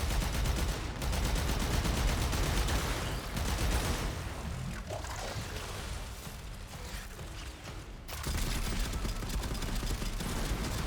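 An arch gun in Warframe fires dense rapid volleys, loud and continuous, with brief lulls near the start and around the two-thirds mark before the barrage resumes; no talking.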